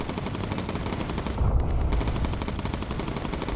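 Rapid, continuous machine-gun fire from a bomber gunner shooting incendiary ammunition in the Bomber Crew video game, loud and close, with dense rattling bursts throughout.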